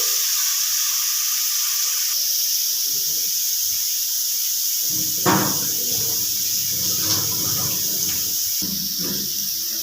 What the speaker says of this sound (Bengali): এবারে দিয়ে দিচ্ছি আমি চিংড়ি মাছগুলো, এগুলোকে একটু ফ্রাই করে নিচ্ছি।